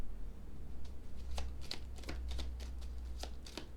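Tarot cards riffled and shuffled up close, a run of quick papery flicks and snaps coming in uneven bursts over a low steady background hum, with no talk.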